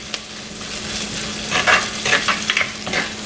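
Curry leaves and a mixture sautéing in a pan for potato bonda, a close, steady sizzle with louder bursts of stirring and scraping in the second half, and no talking.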